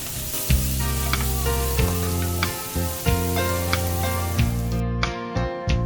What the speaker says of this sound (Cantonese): 切好咗嘅紅椒都係倒埋落個鑊度，將佢哋炒勻佢